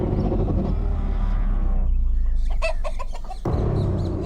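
A rooster clucks in short repeated bursts over a steady low rumble and a background drone, heard fairly close but not very loud.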